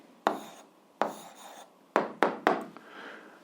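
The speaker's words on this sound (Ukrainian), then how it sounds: "Ну що ж, записуємо відповідь, пишемо відповідь." A pen writes out the answer to an 8th-grade algebra exercise, giving a handful of sharp, separate taps and short scratches against paper, close and fairly clear over a quiet background, with no voices.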